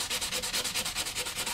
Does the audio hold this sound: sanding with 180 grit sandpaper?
yes